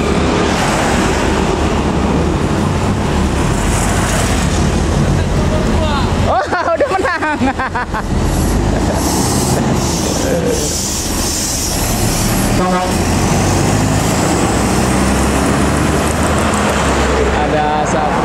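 A Petra intercity bus running from Medan to Pekanbaru pulls up on a roadside in Sumatera, its engine rumbling loudly with road noise, a burst of mechanical rattling midway, and crowd chatter mixed underneath.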